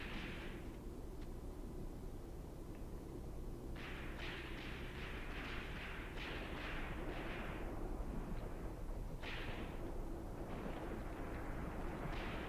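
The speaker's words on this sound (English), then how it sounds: "I wonder where that MG34 is shooting from." MG34 machine gun fire in a Graviteam Tactics battle, heard as distant bursts of rapid shots in short rhythmic clusters over a steady low rumble of battlefield ambience.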